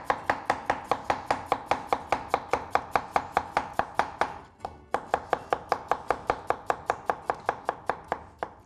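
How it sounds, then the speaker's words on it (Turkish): A knife slices potatoes thinly on a board in a fast, even rhythm of crisp taps, about three per second, with one brief pause midway; close and clear, no talking. "Evet, ince ince doğrandı patatesler."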